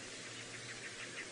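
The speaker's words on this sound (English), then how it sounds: "Lots of birds also shouting within the area. Can you hear all those birds?" Many birds call together around a watering hole on a sunrise safari drive, a dense, steady chorus of high chirps and whistles carrying through the open bush, with no talk over it.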